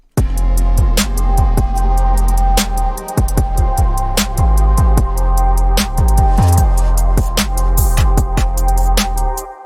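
A hip hop beat with a heavy low bass that ducks in volume each time the kick or snare hits, giving a pumping sidechained rhythm; loud, continuous and without voices.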